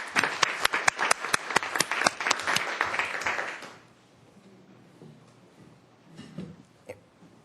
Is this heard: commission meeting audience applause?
yes